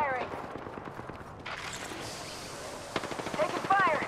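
Rapid automatic gunfire in the Apex Legends video game, dense repeated shots throughout, with game character voice lines heard over the firing.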